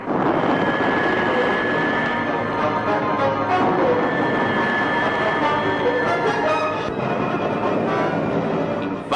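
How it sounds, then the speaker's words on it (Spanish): Military aircraft bombing a government-held naval base drone loudly and continuously, a dense engine roar with no distinct breaks and no talk. "Los aviones adictos al gobierno inician el bombardeo final."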